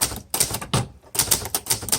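Close, crisp key strikes on a 1962 Hermes 3000 Roundtop typewriter, tapping in an uneven rhythm with a short pause before a faster run of clacks; nobody speaks.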